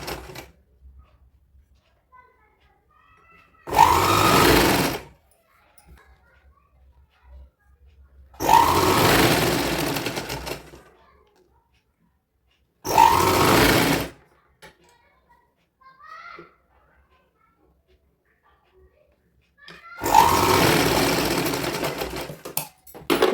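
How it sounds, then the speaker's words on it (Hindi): Sewing machine stitching a hem on a baby's dhoti kurta, running in four loud, steady bursts of a few seconds each, separated by near-silent pauses. "तो चलिए अब हम इसको मशीन में सिलाई लगाते हैं।"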